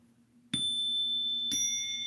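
Bell dinging three times, each clear metallic ring starting sharply and sustaining into the next, close and bright against a faint low hum.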